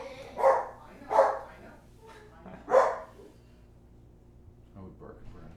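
A dog gives three loud, sharp barks spaced about a second apart, then falls quiet before some faint, softer sounds.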